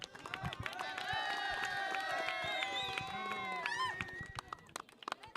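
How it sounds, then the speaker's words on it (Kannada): An audience at a cricket tournament prize ceremony claps and cheers, a dense crowd roar with scattered claps and tonal voices sustained for about four seconds before fading into sparse sounds. "ಜೋರಾದ ಒಂದು ಚಪ್ಪಾಳೆ ಬರಬೇಕು"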